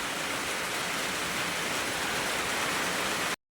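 Steady, dense hiss of heavy rain from a rainstorm pouring down around a house, continuous and fairly loud, cutting off abruptly at the end with no voices.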